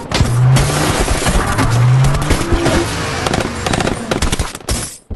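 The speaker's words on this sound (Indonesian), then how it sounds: "Mobil Jack ditembak oleh Charlie dan beberapa temannya" Gunfire hits a car reversing in a Jack Reacher film scene, with loud rapid shots and impacts over a straining engine and squealing tires in a dense, continuous action mix that thins toward the end.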